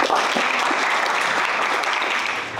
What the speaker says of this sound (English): Okay, a clap for her.